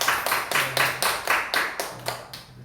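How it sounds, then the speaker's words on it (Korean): Congregation clapping together during a church worship service: about ten steady, evenly spaced claps in a brisk unison rhythm, moderately close and clear, with no talking over them. "우리 다 같이 오늘 예배를 하나님께 우리 박수로 영광을 돌리겠습니다."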